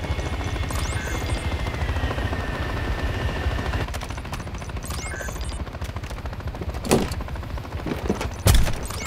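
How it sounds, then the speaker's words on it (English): Helicopter rotor thudding in Call of Duty: Modern Warfare 3's Urzikistan mission, a steady loud chop with bursts of gunfire and a few sharp impacts near the end. "Visual on helo."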